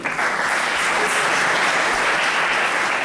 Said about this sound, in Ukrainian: прошу плескати